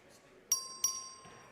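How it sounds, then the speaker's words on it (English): A clerk's bell rung to open a record vote in the Texas legislative chamber: two sharp metallic dings with lingering ringing overtones, close and clear against a quiet room, the second strike following soon after the first. "The clerk will ring the bell."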